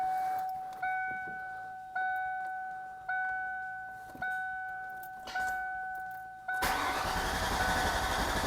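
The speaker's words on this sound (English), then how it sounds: "All right, let's see if it'll start and run," A turbocharged Ford Mustang, a project car being brought back to drivable condition, cranks repeatedly in steady bursts with a whining starter tone, then catches and settles into a loud, broadband running roar close by.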